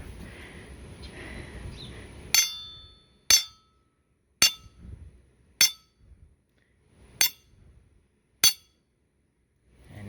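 A hammer strikes a tire iron pressed into a dirt mold, six sharp metallic clinks ringing out about once a second, close and clear, following a short stretch of quiet rustling.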